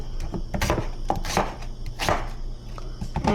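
Onions are chopped with a knife on a board for a spaghetti dinner. Roughly a dozen sharp, close chopping strokes land at an uneven pace, with no talking.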